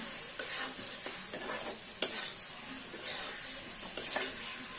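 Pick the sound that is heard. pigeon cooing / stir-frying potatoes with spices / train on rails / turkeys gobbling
stir-frying potatoes with spices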